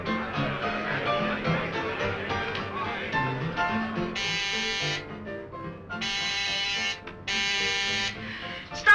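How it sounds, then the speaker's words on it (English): An electric door buzzer is pressed in several long insistent bursts, harsh and fairly loud, with music playing underneath. "Stop pressing that buzzer."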